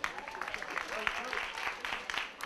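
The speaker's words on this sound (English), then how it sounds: "Give yourselves a round of applause." Students clap together at a school assembly, a dense, steady wash of applause across a couple of seconds with a few voices mixed in.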